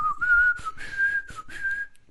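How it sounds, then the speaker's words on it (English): A person whistles the tune Dixie, a clear bright melody in short connected phrases with brief breaths between, close and alone. "I will whistle Dixie music for you."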